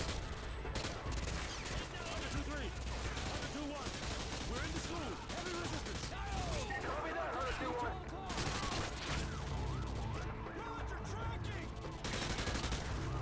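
Rapid, continuous gunfire from Call of Duty: Modern Warfare 2 fills the scene, a dense spray of shots with game effects layered throughout, played loud and steady from start to finish.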